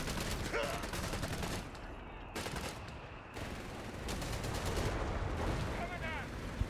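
Rapid bursts of gunfire and battle noise from the strategy game Company of Heroes 3, dense and continuous with sharp cracks throughout, while a voice talks over the action.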